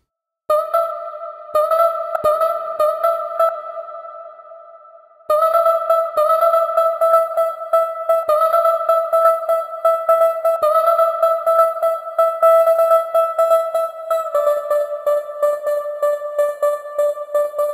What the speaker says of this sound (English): the MIDI notes of the snare over here are triggering the vocal to play